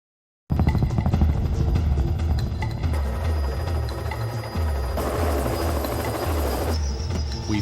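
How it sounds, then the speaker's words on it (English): Loud, close helicopter rotor throb and turbine roar, steady as the aircraft sets down on a road near a forest fire, with the beating rotor shifting in tone partway through. "We had to land the helicopter in the road"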